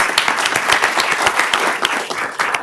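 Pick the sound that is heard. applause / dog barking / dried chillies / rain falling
applause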